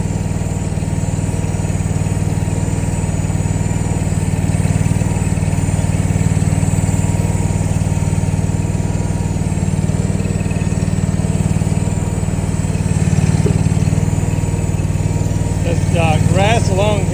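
A skid loader engine drones steadily and loud throughout while clearing overgrown grass about seven feet tall in a wooded area, a constant mechanical roar with no breaks.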